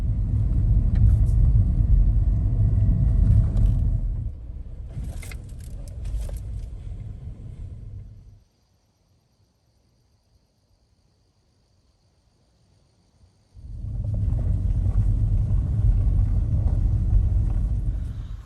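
A car pulls off onto a roadside shoulder near Frontenac Provincial Park. A steady low engine rumble slows and fades, then cuts to silence. The rumble returns a few seconds later, with faint insect chirps in the background.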